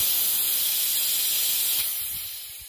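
Leftover LPG hissing out of a gas cylinder after the valve is removed and air is blown in with a compressor, a loud steady hiss that fades toward the end, over faint low background noise.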